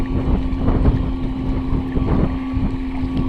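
A FeelFree Moken 12.5 V2 kayak fitted with a Bixpy motor pushes into the wind fully loaded, producing a loud, steady motor hum under heavy wind buffeting and water rush.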